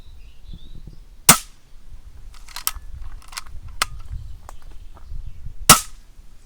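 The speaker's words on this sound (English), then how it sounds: "now I'll just fire off a few shots" A Weihrauch HW100 laminate adjustable air rifle fires two sharp, close cracks a few seconds apart, with quieter clicks and lever handling noises in between.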